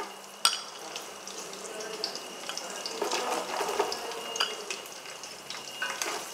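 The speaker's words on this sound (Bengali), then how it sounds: "এরপর আমি কাজু আর কিশমিশটা তেলের মধ্যে দিয়ে দেবো।" Cashews and raisins dropped into hot oil in a pan and stirred, giving a steady crackling sizzle with a sharp splash at the start and scattered spoon scrapes throughout.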